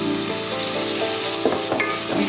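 Crushed tomato mixture frying in a pan, a loud continuous sizzle close by with a few stirring scrapes near the end.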